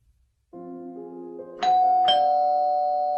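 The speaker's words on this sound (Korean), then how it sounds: "누군가 초인종을 눌렀다." A two-tone doorbell chime rings once, ding-dong, clear and close, its second tone lingering as it fades in an otherwise quiet room.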